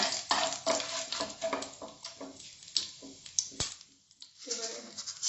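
A spoon stirs asafoetida through hot oil in a pan, giving a close, steady scraping and light sizzle with brief pauses, loudest at the start and easing off toward the end.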